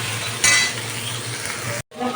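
Potatoes with chopped green chillies fry in a pan, a steady close sizzle with a louder burst of crackle early on, cut by a brief silence near the end before the hiss returns.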